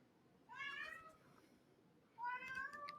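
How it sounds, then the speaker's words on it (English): Cat meowing indoors, two drawn-out, rising-then-falling meows about a second and a half apart, faint and somewhat distant over a quiet room hum, with no talking. "Sorry if you hear my cat."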